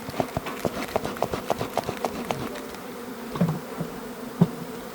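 Angry honeybees swarm around an opened hive box during a split, their dense buzzing steady throughout, broken by repeated sharp knocks and taps from handling the wooden equipment.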